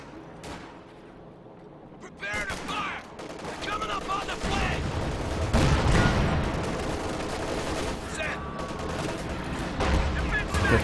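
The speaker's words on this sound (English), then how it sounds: "Got the incendiary rounds gone hard for the MG34" MG34 machine gun firing incendiary rounds in Company of Heroes 2, rapid bursts of gunfire mixed with scattered shots and booms of a busy battle, growing louder midway under ongoing game sounds.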